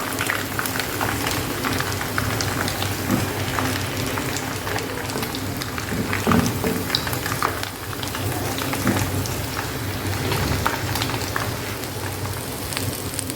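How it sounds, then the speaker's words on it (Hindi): Chicken sticks fry in hot oil with a loud, continuous crackling sizzle and no pauses, close by and alone. "और दूसरी तरफ से भी इसी तरह से फ्राई कर लूँगी मैं"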